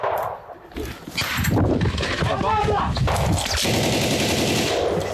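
Rapid bursts of automatic gunfire crackle and echo among other loud bangs during urban combat in Bakhmut, Ukraine, with voices shouting over the continuous, chaotic racket.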